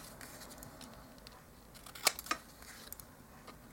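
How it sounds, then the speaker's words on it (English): Scissors snip the corners of paper for dollhouse wall art, giving two or three quick, crisp cuts up close over a soft background hiss. "Then we're going to cut the corners"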